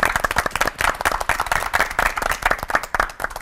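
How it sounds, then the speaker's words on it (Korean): Audience in a church lecture hall applauds three pastors with loud, dense clapping from a sizeable crowd, steady throughout. "세 분의 목회자 분들께 큰 박수 부탁드립니다"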